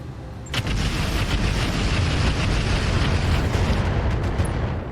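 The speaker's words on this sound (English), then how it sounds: "I think every single missile hit that time" Missile barrage explosions strike mech armor in the RogueTech BattleTech mod, a dense, loud rumbling roar of overlapping blasts that starts abruptly and holds for several seconds, with no talk.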